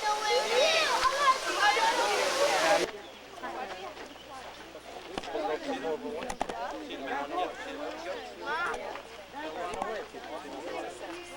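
River water gushing inside a mountain: a loud rushing wash for the first few seconds, then a quieter steady flow under people talking nearby.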